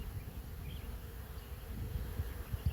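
A honey bee swarm in progress, a dense continuous buzzing hum from many bees, steady and close throughout, with no voices.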